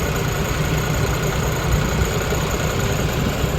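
A tractor engine runs steadily while towing a new super seeder home from the workshop, a loud, constant low rumble and drone with no break in the sound.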